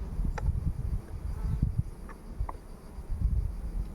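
Anatolian honeybees of the Bilecik ecotype hum in a steady, close drone around an open hive, with a few brief higher buzzes as individual bees pass near.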